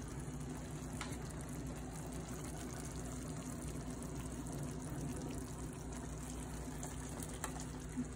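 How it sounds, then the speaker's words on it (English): A pot of pasta water boils on a stove for linguine with shrimp and feta, giving a steady, low, continuous bubbling wash close by. "Oh yeah, it's bubbling away."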